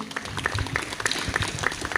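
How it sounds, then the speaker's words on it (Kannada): Applause from an audience at a Christmas music night as a couple on stage is welcomed with a flower plant, a dense run of claps that holds steady for two seconds with faint crowd noise. "ಜೋರಾಗಿ ಕೈ ಚಪ್ಪಾಳೆ ಬರಲಿ"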